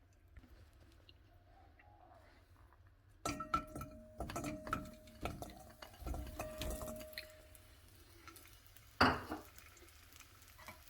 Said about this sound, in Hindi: अब हम 1 चम्मच घी लेके खजूर को मेल्ट अच्छी तरह से कर लेंगे।